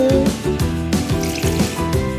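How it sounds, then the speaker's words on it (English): Water is poured into a jar of mango and sugar for mango sorbet, a close, steady glugging stream with rhythmic bubbling pulses as the jar fills. "Water in."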